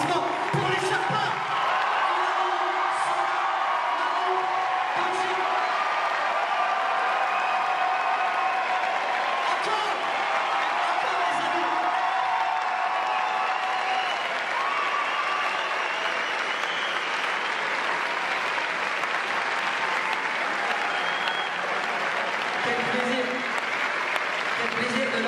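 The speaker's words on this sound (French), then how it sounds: "Faites un tonnerre d'applaudissements pour les Sherpas." A large audience applauds the Sherpas in a loud, sustained roar of clapping with scattered cheers and whoops that lasts throughout.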